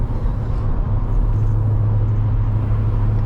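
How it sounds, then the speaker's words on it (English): A car drives along a road near Marietta, Oklahoma, heard from inside as a steady, loud low engine and road rumble with no break. "I am going to go ahead and finish driving home."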